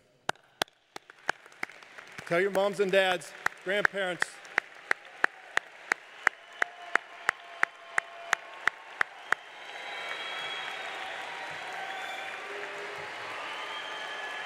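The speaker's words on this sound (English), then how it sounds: "Students, let's stand and applaud our families and friends." Graduates at a high school graduation ceremony stand and applaud their families and friends: a voice and steady ticking come first, then broad, sustained clapping swells in and carries to the end.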